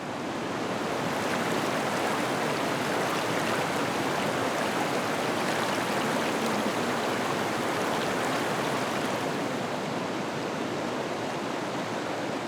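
Flowing water of the Kayan River amid mountains and forest, a broad, constant rushing roar with no breaks, dense and steady like strong current over rocks, heard alone without voices.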